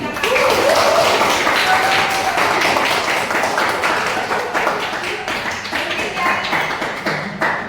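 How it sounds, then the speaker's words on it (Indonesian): Classroom of students clapping for a classmate, loud rapid applause close by with many hands tapping in a dense patter that gradually thins toward the end, a few voices faintly mixed in. "Terima kasih tepuk tangan untuk Adit"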